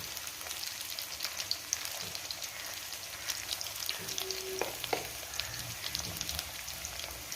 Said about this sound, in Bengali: সর্ষের তেলের মধ্যে তারপর ডুমো ডুমো করে কেটে রাখা আলুগুলো দিয়ে দেবো তারপর ভালো করে একটু নাড়বো